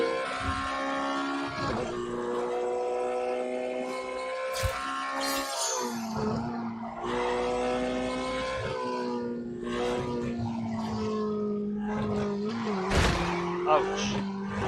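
A Porsche race car in The Grand Tour video game revs hard with a loud, steady engine drone while its tires squeal and skid through corners, voices talking over the action throughout.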